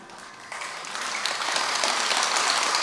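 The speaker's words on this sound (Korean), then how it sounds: "법문 좀 잘하라고 박수 치시는 거죠?" Audience applause at a Buddhist dharma talk at Jogyesa temple, steady dense clapping from a large hall crowd that swells slightly and holds for a few seconds with no talking.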